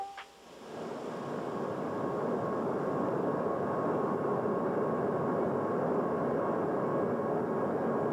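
A loud, steady roar of airplane cabin noise, a broad continuous engine rumble that swells in within the first second and holds unchanged.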